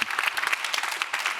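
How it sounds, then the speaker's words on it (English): Applause from an audience at a corporate event in San Francisco, dense and lively clapping that fills the whole short moment at a moderate distance. "Please give them a big round of applause"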